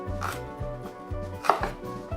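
A knife chops basil on a cutting board in quick, regular, close taps, four or five crisp strikes in about two seconds with no talk.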